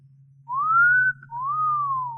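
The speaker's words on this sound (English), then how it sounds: "you should have made the whistle shorter, like this" A person whistles two clean, rising-then-falling notes in succession, each held about half a second to a second, close and clear against a low steady hum.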